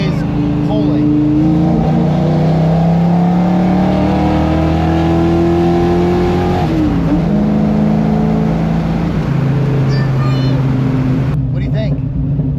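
A car engine revs hard and holds steady at high RPM, droning loudly and close with rising and falling tones, while people talk over it.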